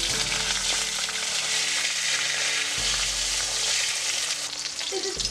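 Cabbage frying in hot oil in a pan, giving a loud, dense, unbroken sizzle close up with faint stirring underneath, and no one speaking.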